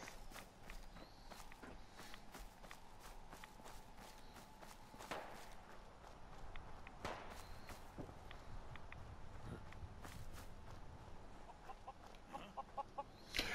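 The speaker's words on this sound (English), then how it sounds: "Is that a fucking chicken?" Clucking of a ghoul chicken in a video game comes through faintly amid a steady stream of footstep-like taps and small game noises, all quiet and continuous.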